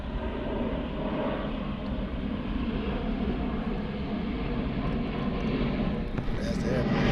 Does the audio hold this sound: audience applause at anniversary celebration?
no